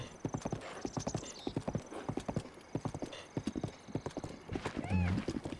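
Rapid rhythmic hoofbeats of a galloping horse in Zelda: Breath of the Wild, close and steady, ending with a horse's whinny.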